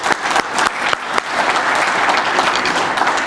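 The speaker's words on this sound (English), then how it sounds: "So let's give her a real round of applause." Enthusiastic audience applause at a Prince George's County Business Roundtable 10th anniversary event, starting with a few distinct claps and building into steady, dense clapping throughout.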